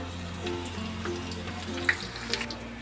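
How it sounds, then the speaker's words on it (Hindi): Garlic fries in hot oil in a home kitchen as a soft, steady sizzle for a few seconds. A couple of small clicks and taps sit over it, and no voices are heard. "अब मैं इसमें लहसुन फ्राई करूँगी।"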